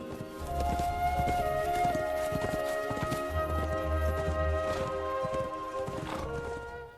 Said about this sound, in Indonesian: Scenes berpindah ketika Mulan berkuda